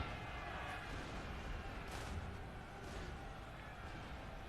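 Cannon artillery in a Napoleon: Total War battle booms at a distance, with a couple of muffled blasts rising over a steady rumble of battlefield noise.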